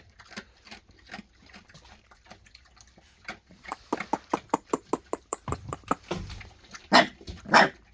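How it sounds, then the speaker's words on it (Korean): A black puppy gives a rapid run of short, sharp barks that grow louder and closer, ending in a few stronger yaps, over quiet background. "이 창원으로 갈 놈이 가막 짖네 어, 주인한테 막 짖어?"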